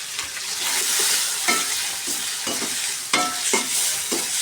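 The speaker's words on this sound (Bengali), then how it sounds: "এখন এটাকে ভাজা ভাজা করে নেব মশলাটাকে।" Onion and cumin paste frying in a pan with oil, hissing in a steady close sizzle while a utensil stirs it, giving several scraping bursts and no talk.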